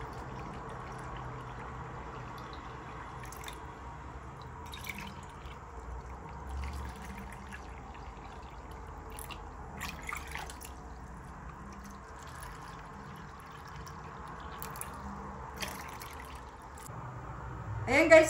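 Water poured from a cup into a pot while making apple jam at home, a thin steady trickle under light background noise, ending with a louder splashing pour.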